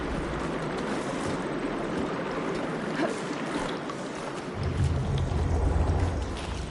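Water rushes steadily through pipework in Horizon Forbidden West, a continuous broadband flow that swells louder with a deeper low rumble partway through.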